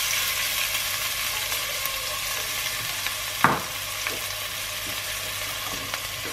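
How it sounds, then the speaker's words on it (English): Chopped onions fry in oil in a preheated pot, giving a steady close sizzle with one brief clatter as they are stirred, and no talking. "And then we're going to add in our chopped onions."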